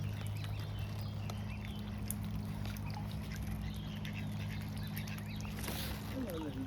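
Ducks quacking in the open air near a family of mute swans, a few short calls over steady low background hum with people talking nearby.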